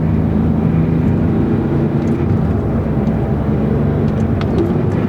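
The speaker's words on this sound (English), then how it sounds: "Even the way the engine sounds, that metallic note at the top end, they use this this conical air filter that helps with that induction note" A Porsche 997 GT3 flat-six with a conical air filter gives a loud, steady induction roar with a metallic edge, heard from inside the car as a constant drone with no speech.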